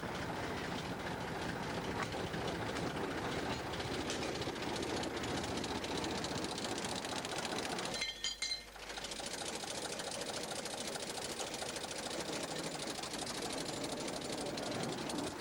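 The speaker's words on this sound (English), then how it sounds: "The locomotive is the 1936 Ruston, which first saw service in a cement works." A 1936 Ruston locomotive, once used at a cement works, running on a 2-foot gauge light railway, giving a steady, dense mechanical rattle and rumble that breaks off briefly partway through, close and continuous.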